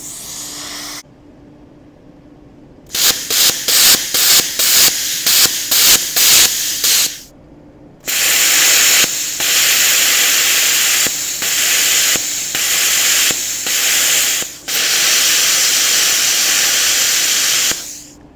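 A BestArc BTC500DP plasma cutter blasts loud, harsh air hissing in long bursts, first a stuttering run of short pulses, then sustained roaring stretches with brief breaks, close up and without speech.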